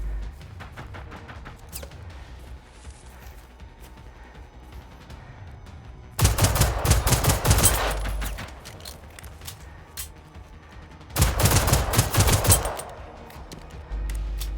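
Hip-fired automatic gunfire in the video game Generation Zero, loud bursts in two sustained volleys with faint shots between, over a low in-game ambience.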